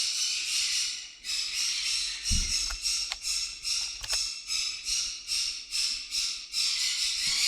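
Pet birds squawk loudly and close by in a room, a long run of harsh, rhythmic, repeating calls with brief gaps between bursts and no talking.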